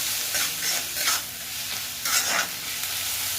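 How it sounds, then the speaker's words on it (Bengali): Chopped onions fry in a hot pan for paneer bharta, giving a steady, close sizzling hiss broken by several louder scraping bursts as they are stirred. "পেঁয়াজটা ভালো করে ভাজা হয়ে গেছে"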